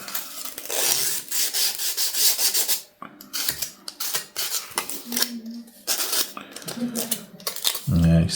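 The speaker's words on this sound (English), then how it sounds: "Let's use the sandpaper." Sandpaper rubs over a wooden printing press part in uneven back-and-forth strokes, close and fairly loud, with brief pauses and a few knocks.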